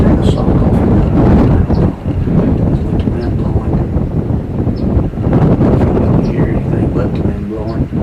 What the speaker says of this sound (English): But the wind blowing.